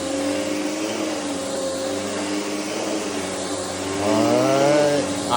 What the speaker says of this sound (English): I got a lot more vacuuming to do.